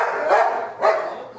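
A German Shepherd dog barks twice in a rough, loud rhythm during a tense fight-and-fear encounter, each bark close and full with a brief gap between them.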